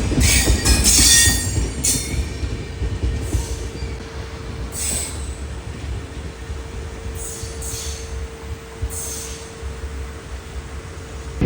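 A Central Railway train passing near a station on the Mumbai division route, with a sustained high wheel squeal and bursts of rail noise, loudest early and then steady, with no talk.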